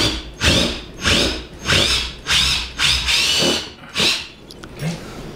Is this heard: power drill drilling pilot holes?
yes